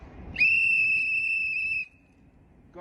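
A whistle is blown once, a loud, steady, shrill blast of about a second and a half. It sounds alone and ends abruptly.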